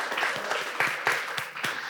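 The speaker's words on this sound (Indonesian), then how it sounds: "tepuk tangan dong" A small group at a church youth gathering claps briefly, a handful of distinct, fairly close hand claps with uneven spacing, moderately quiet.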